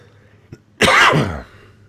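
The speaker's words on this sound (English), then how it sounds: "I'm just coughing there a little bit." One loud, sudden cough close to the microphone, preceded by a faint click and followed by quiet.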